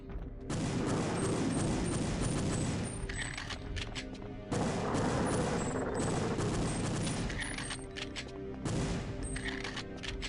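Video-game gunfire rattles in two long, dense bursts as enemies are shot, loud and continuous with a brief break midway and no talking.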